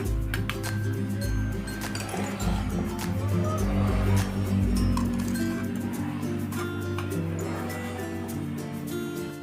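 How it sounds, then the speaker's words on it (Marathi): Green chillies are pounded in a stone mortar and pestle for a rustic Maharashtrian thecha, making a steady run of sharp clinks and wet squishing thuds that repeat close up and fairly loud throughout. "आता आपल्याला मस्तपैकी ठेचून घ्यायच्या त्या थोड्या थोड्या टाकून सर्व मिरच्या ठेचून घ्यायच्या"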